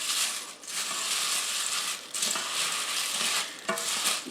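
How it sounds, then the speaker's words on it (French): Cornflakes are stirred into a melted chocolate and peanut butter mixture for crunchy bites, giving a steady, close, crackly scraping rustle with a few brief pauses, and no voices. "Et on brasse pour bien couvrir les flocons de maïs avec le mélange de chocolat."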